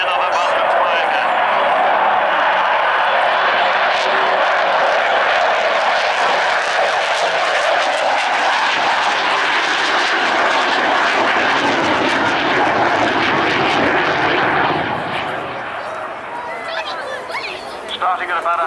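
An Avro Vulcan jet bomber roars past in a flying display at Cosford Airshow, a loud sustained broadband engine rumble and howl holding steady before fading toward the end, with a commentator speaking over it.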